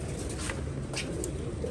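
A flock of pigeons keeps up a continuous low cooing, with a few brief higher calls or flutters rising over the steady burbling mass. Nobody speaks.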